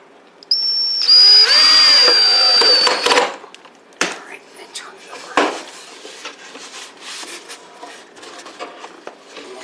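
Power drill driving screws into drawer slides while installing slide-out kitchen cabinet drawers: a steady, loud whirring burst of about two seconds near the start, followed by softer clunks and handling noises.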